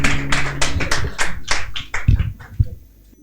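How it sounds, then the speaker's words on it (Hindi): A church congregation claps in uneven, fairly close bursts of hand claps that thin out toward the end. "आइए तालियों के साथ बच्चों को रवाना करेंगे।"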